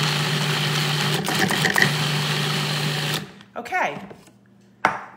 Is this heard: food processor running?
yes